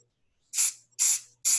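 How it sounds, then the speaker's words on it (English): Three short, sharp hissing bursts of super glue accelerator sprayed lightly from an aerosol can, each about a fifth of a second long with brief pauses between, close and crisp against near silence. "take your can of accelerator that you buy at Rockler, which is designed to make super glue dry right away. And you spray it just lightly like that"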